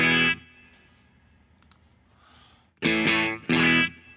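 An electric guitar played through a Tube Screamer pedal into a Two notes Genome gives short distorted chords and notes with reverb. A loud strum is followed by quiet decay, then two more bright crunchy hits.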